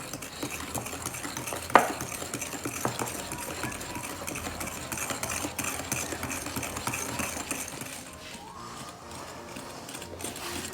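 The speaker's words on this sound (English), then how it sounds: "now we just mix this until it's all combined" Mango tart filling with cornstarch and a pinch of salt being stirred in a bowl, a steady close scraping and swishing with one sharp clink early on, softening toward the end.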